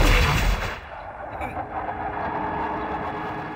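Artillery cannon fired at houses beneath a city wall in a war drama: one loud, heavy boom at the start that decays into a long rumbling tail and background noise.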